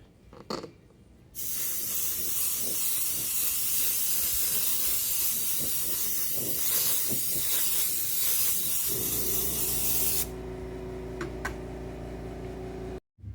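Airbrush spraying paint for a carbon fiber effect on an RC car body, a steady loud close hiss lasting around nine seconds, then a lower continuous hum with lighter hiss before stopping.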